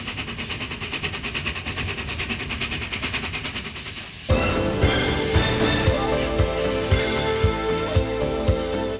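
A steam train on a two-foot narrow gauge railway rumbles past with a steady hiss, then switches abruptly to loud rhythmic clattering of wheels over rail joints, close by and continuous.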